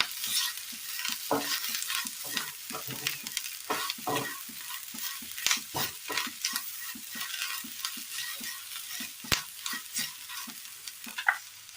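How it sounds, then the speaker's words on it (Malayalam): A Kerala-style curry is stirred and mixed in a pan, with a spoon scraping and tapping in a steady, uneven rhythm over a constant sizzle from close by, and no one speaking. "മൊത്തത്തിൽ മിക്സ് ചെയ്തെടുക്കാം"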